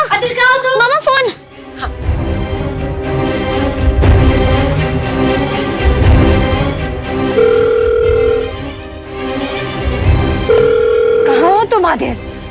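A telephone rings in two separate bursts of steady electronic tone during a tense domestic scene, set against a dense, loud backdrop of music and voices.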